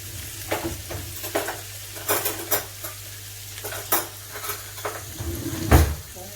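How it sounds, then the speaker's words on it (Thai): Fried rice being stir-fried in a pot with onion, close sizzling under repeated scraping and clanking strokes of a utensil against the metal, uneven in rhythm. "ผัดไปผัดไปให้มันสุกนะคะ"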